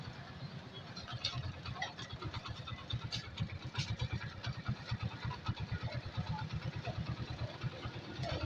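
A motorcycle engine runs just after a service, giving a steady, rhythmic low thumping with close, even pulses for the whole stretch and no talk over it.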